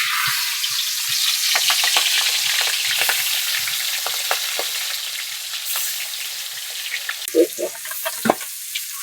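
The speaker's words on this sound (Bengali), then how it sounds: "এবার মাছ দিচ্ছি তেলের পরে" Pieces of silver carp fry in hot oil, giving a steady loud sizzle with scattered pops and a few scraping stirs near the end and no voices.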